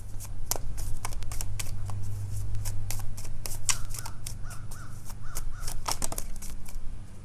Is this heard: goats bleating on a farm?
no